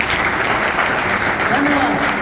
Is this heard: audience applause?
yes